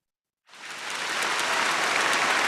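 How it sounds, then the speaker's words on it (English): An applause sound effect cuts in from silence after half a second and swells into a dense, even wash of crowd clapping that holds steady to the end. "Got applause."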